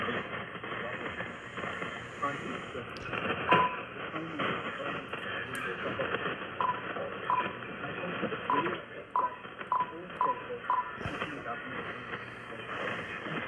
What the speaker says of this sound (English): Sounds like a mess, like it did yesterday. I think there's two signals broadcasting.